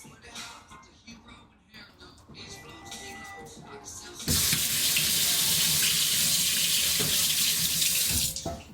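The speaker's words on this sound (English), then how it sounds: "I'm gonna be washing my hands a lot" A kitchen faucet runs hard into a sink during hand washing, a loud steady gush that starts partway through after quieter handling noises and continues to the end.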